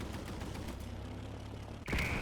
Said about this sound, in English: I was too close to to my own explosion